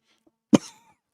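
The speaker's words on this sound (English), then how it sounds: "that's not a new persistent cough, that's just a bit of dust" A single short, sharp cough from dust, close and fairly loud, surrounded by near silence.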